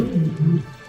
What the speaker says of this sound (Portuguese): Eles rugiam e faziam barulho.